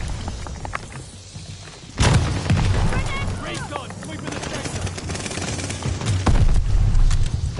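Automatic gunfire and bursts in a first-person shooter match, loud and continuous, with sharp onsets around two and six seconds and someone talking over the shooting.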